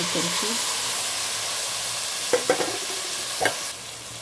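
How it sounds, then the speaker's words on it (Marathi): Ingredients for sambar sautéed in a hot pan, a steady loud sizzle with a few sharp clicks of a spoon stirring against the pan. "हे पण छानसं आपण परतून घेऊया"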